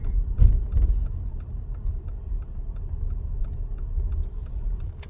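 Someone gets into a car: a solid thump of movement near the start, then a low steady car hum with small ticks and rustles, no talking.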